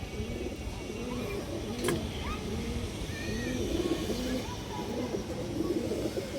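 Pigeons kept as high flyers coo over and over in low, rolling phrases close to the listener. The cooing repeats steadily over a faint background hum, and one brief sharp click cuts through.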